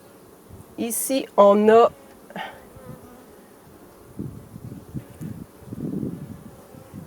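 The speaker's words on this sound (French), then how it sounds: "les abeilles sont sur le cadre, évidemment, puis elles recouvrent les alvéoles" Honey bees buzz around frames during a beehive inspection, a low, diffuse hum under someone speaking in short phrases, with handling and rustling sounds close by.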